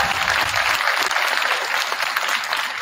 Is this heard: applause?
yes